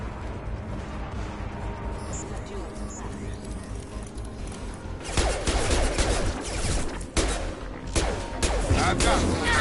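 Video game gunfire erupts about halfway through, loud rapid bursts of shots after a stretch of quieter battlefield ambience, with voices heard amid the action.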